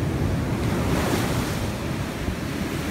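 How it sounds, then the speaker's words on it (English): Ocean surf breaks and washes up a beach in a continuous loud roar, with wind buffeting the microphone and no voices. "and here comes another wave."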